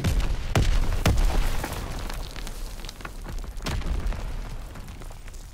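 Rocket explosions from a Panzer Shrek launcher in a Roblox shooter, several loud booming blasts with sharp onsets near the start and again later, set against continuous game noise and rumble.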